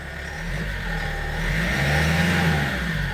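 A nearby Kia Bongo 3 diesel food truck engine revs up, its pitch rising and swelling steadily before easing slightly, loud and continuous with no talking.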